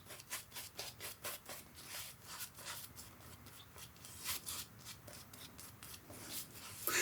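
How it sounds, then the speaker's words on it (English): An Ever Ready shaving brush works lather across a face with brisk, repeated bristly rubbing strokes, close and fairly quiet, in a steady scrubbing rhythm with no talking. "I always do a little bit extra face lathering"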